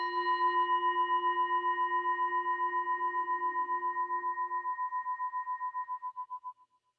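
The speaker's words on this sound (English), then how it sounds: "Okay, so here's the bell." A bell struck once at a tai chi class rings out with a clear metallic tone, then decays slowly over several seconds with a gentle pulsing shimmer before fading to silence.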